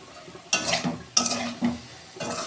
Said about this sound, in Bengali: এই যে আমি যে ভাজা মশলাটা করে রেখেছিলাম দিয়ে দিচ্ছি